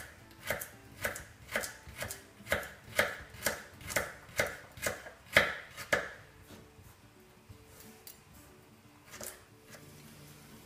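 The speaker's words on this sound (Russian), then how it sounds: "Морковку будем резать так." A knife chops a carrot, halved lengthwise, into thin half rings on a board. About a dozen crisp, evenly spaced cuts sound up close, then there are a few scattered taps.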